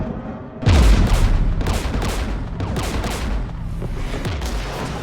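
Heavy gunfire and booming artillery in Mass Effect 3, opening with a deep close blast, then continuous rattling shots and periodic low explosions filling a loud battlefield.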